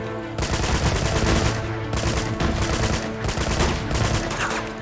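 Submachine gun firing in the video game Uncharted 2: sustained loud automatic bursts, several strings of rapid shots nearly back to back, no voices.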